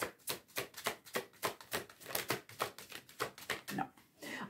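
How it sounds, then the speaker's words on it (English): Tarot cards are shuffled by hand in a quick steady run of soft riffling slaps, close and quiet, with no talking. "One more shuffle."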